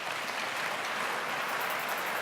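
A church congregation applauds during a French-language sermon, a steady wash of clapping and crowd noise held at even loudness throughout.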